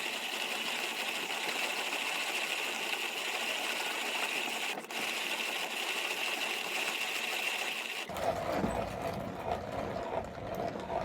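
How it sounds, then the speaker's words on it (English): A 1930s hand-cranked coffee grinder grinds beans with a continuous gritty rasp, close and fairly steady, shifting to a coarser crunching texture in the last few seconds. "So it's a reasonably fast grinder."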